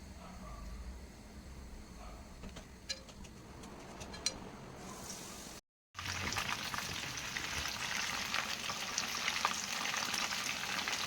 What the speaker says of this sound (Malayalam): രണ്ടാമതിട്ടത് ഫ്രൈ ആയി വന്നുകൊണ്ടിരിക്കുകയാണ്